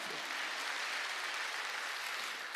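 A church congregation claps in a steady, dense wash of many hands that holds at an even level throughout.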